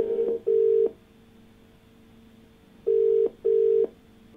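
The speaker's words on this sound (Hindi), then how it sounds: "अपने कार्यक्रम की शुरुआत करते हैं और फोन लगाते हैं गिरीश जी को" A telephone line rings on a call from a TV studio to a caller, giving two pairs of steady electronic tones, each pair two short bursts, separated by a pause over faint line hiss, with no talk.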